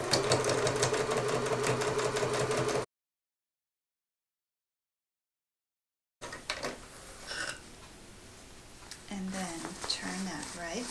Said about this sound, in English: you're going to stitch up the short sides and across the base